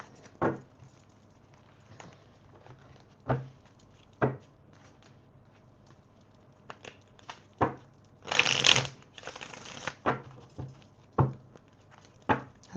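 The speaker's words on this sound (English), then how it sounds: "I'm going to shuffle these cards." Tarot cards being shuffled in quick, irregular riffles and taps, close and quiet, with one longer burst of rapid shuffling midway.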